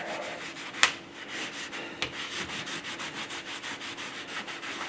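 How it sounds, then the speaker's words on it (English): Copper-coated model part being buffed by hand, a close, quiet rhythmic rubbing with steady back-and-forth strokes and a couple of sharp ticks, no talking. "Now we'll buff it."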